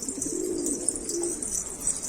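Pigeons or doves cooing inside a backyard coop, a steady low murmur of soft coos close by with faint higher chirps layered over constant background hiss.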